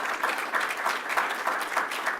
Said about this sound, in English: they do deserve a round of applause